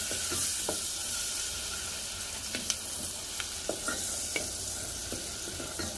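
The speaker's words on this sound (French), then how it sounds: "Je vais juste mélanger." Onions frying in a pan being stirred, a steady close hiss of sizzling oil with scattered scraping clicks of the utensil against the pan, no talking.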